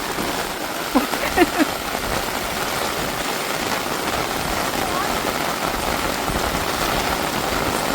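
Heavy rain pours in a seaside village, a dense, steady hiss that fills the whole stretch, with brief faint voice sounds near the start.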